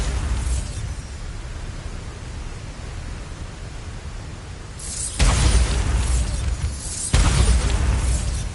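Bombarda explosion spell in Hogwarts Legacy going off as a loud broadband blast, followed a couple of seconds later by a second burst, over steady game ambience.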